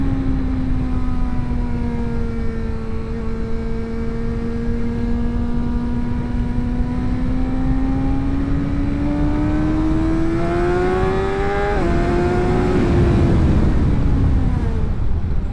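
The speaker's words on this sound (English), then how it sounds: "the acceleration is ridiculous, and I can't even really fully show you just how brutal it is" A BMW M1000XR motorcycle engine accelerating hard, its loud, steady rising whine climbing through the gears with a brief dip at a shift before pulling again.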